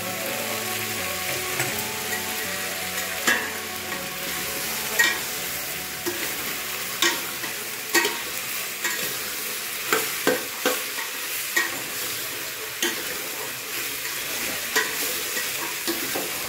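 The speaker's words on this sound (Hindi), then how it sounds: "अब इसमें डालेंगे 2 चम्मच हल्दी। बस और इसको चला देंगे।" Two spoonfuls of turmeric and whole spices stirred and frying in a hot pan, a steady sizzle under repeated scraping strokes of the spoon, close and alone.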